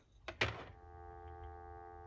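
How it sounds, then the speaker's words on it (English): Steady dial tone from a 1983 ITT 500 telephone handset set up for El Salvador's ANTEL network, humming on continuously for nearly two seconds after a couple of brief clunks as the receiver is lifted. "I will pick up the handset and give you all some dial tone"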